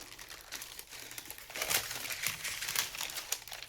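A folded piece of junk journal tape being unwrapped, giving close, steady crinkling and rustling that grows louder partway through, with no talk.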